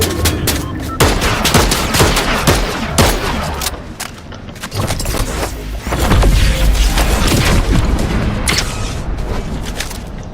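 Rapid bursts of gunfire in the video game Fortnite, with dense overlapping shots and booming impacts running loud and continuous throughout, alone without talk.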